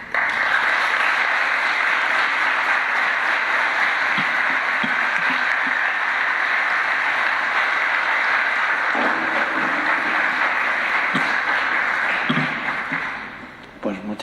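Sustained audience applause fills a church-style talk hall after a priest's address, a dense steady roar of many hands clapping that carries on at even strength before tapering off near the end, with faint voices underneath.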